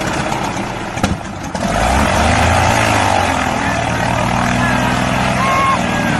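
Aircraft propeller engine starting up, with a brief cough and catch before settling into a loud, steady drone close by, with no voices.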